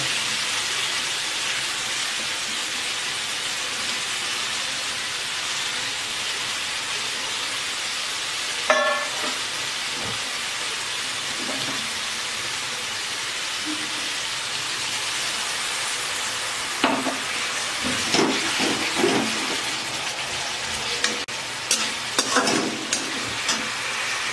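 Pomfret fish curry masala sizzling as it fries in a pan, a steady crackling hiss with occasional scrapes and clatters from stirring, louder near the end.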